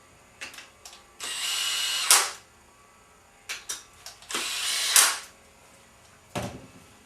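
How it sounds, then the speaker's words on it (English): A power driver screws down the clamping bar on a planer knife honing jig in a workshop, giving several short whirring bursts of a few seconds each, separated by quiet pauses and small clicks. "So we just need to screw the clamping bar down."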